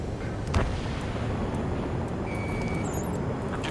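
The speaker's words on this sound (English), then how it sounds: "Gunfire and the roar of jets echoing through the streets." Distant gunfire and jet roar in the Ace Combat 7 game world, heard as a dense, steady rumbling wash with a soft thump near the start, a faint high whine midway and scattered crackles throughout.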